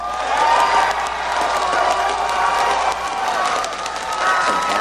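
A large crowd at an esports match, the Azubu versus TSM League of Legends Season 2 quarter-final, cheers and applauds loudly and continuously, with scattered shouts rising from the roar.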